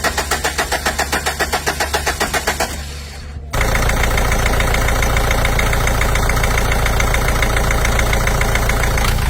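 A car engine idles roughly with a loud repeating knock from a fault, cuts out briefly, then restarts and runs on with a dense, steady rattle close by.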